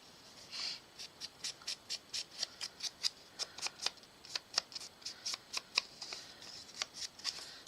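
A corner rounder punch clips paper passport cards in a brisk series of about twenty sharp, close snips and clicks, evenly spaced with a few quick doubles, over faint room background and no talk.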